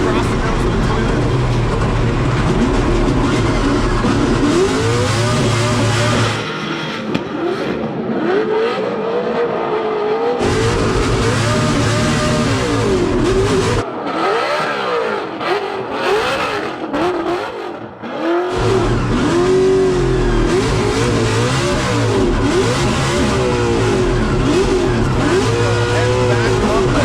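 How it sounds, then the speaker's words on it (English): Formula Drift cars, including a Toyota, scream through a drift battle with loud sustained revving engines and tire noise, the pitch rising and falling as throttle is blipped, with brief drops in volume between passes. "James Deane across the nose of the Toyota"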